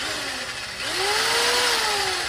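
A handheld mini circular tile saw spins up to high RPM, giving a loud, close, shrill whine whose pitch rises and then holds steady.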